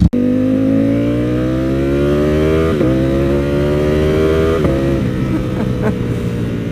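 A Ducati Panigale V4 SP motorcycle fitted with a Termignoni slip-on exhaust revs hard and steadily, its engine note climbing in pitch with two brief dips where it shifts, loud and close throughout.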